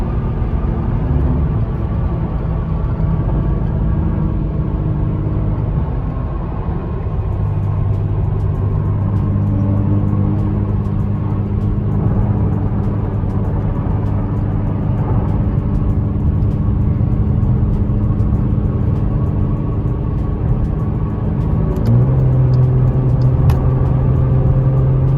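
Interior of a Jeep driving down a street late at night: a loud, steady, close engine drone and road rumble throughout, with shifting engine tones and a rise in pitch near the end as it picks up speed, no talking.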